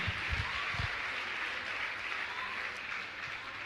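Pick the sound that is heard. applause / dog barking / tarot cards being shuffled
applause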